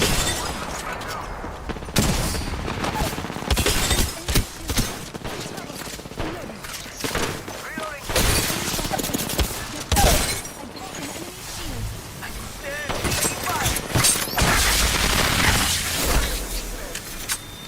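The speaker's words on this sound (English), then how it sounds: "Taking fire! I'm taking fire." Bursts of Apex Legends gunfire and impacts crackle on and off, loud and close, with a player's voice calling out between the volleys.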